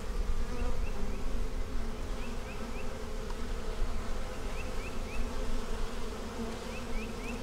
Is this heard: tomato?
no